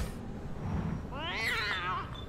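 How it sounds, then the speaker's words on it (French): A cat meows in the pixel-art cyberpunk video game ANNO: Mutationem, giving one clear, wavering, high-pitched meow after a moment of low background game ambience. "Ah, il y avait un chat."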